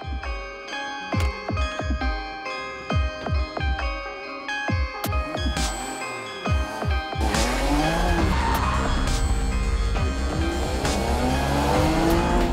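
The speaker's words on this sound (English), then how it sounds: "the perfect excuse to take the Spyder to the track" A Porsche Boxster Spyder driven hard around a race track: engine revs climbing and dropping through gear changes, then sustained tire squeal and skidding as it corners, loud and close with no talking.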